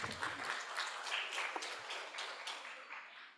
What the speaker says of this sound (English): let us once again give our distinguished guests a warm round of applause.